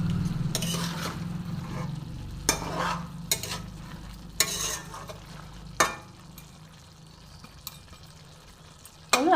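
Tengra fish curry with whole green chillies being stirred in a pan, with soft scraping strokes and metal-on-pan clinks repeating at irregular intervals over a low, steady sizzle, close by and without talk.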